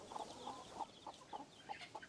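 Broody hens clucking in a coop, a steady series of short, soft clucks repeating about every quarter second over faint background noise, with no talking.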